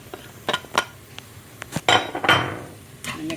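A shrimp and spinach mixture stirred in a pan for crab and shrimp cakes, with irregular scrapes, clinks and knocks of a utensil against the metal and a longer scraping sweep in the middle, no talking.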